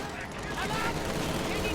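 Gunfire in the World War II strategy game Company of Heroes 2, a dense, continuous rattle of rifle shots during a 2v2 battle, loud and unbroken, with a voice talking faintly underneath.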